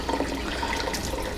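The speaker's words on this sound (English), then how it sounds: "so I am going to add just a touch more water" Warm water is poured into stiff homemade pizza dough, a brief, soft splashing trickle heard close and faint, with no speech.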